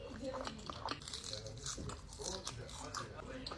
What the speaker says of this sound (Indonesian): Cimolnya kriuk kenyal.